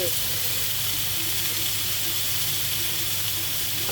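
Ingredients for a French-style cheese croque sizzle steadily in a pan, a continuous close hiss and crackle of frying that holds level throughout without a break.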